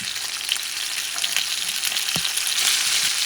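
Andouille sausages frying in a pan give off a steady, close sizzle with light crackles and a brief stirring scrape, with no voices.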